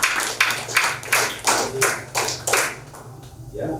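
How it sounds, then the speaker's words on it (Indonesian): An audience at an Indonesian motivational business presentation claps in about eight loud, evenly spaced bursts, each separated by brief pauses, before the hall quiets. "Iya, tepuk tangan bagi kita semua."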